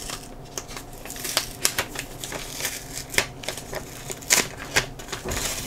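A paper envelope mailed from Krasnodar Krai is torn open by hand, giving a run of dry rips, crinkles and rustles in irregular close-up bursts with no talking.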